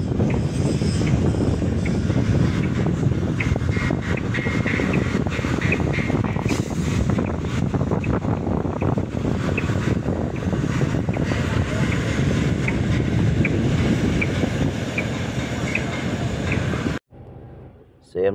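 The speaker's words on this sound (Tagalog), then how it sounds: "sobrang lakas ng hangin" Very strong wind roars across the microphone outdoors at a building site, a loud continuous buffeting rush that holds nearly the whole time before cutting off abruptly near the end, with a voice speaking underneath.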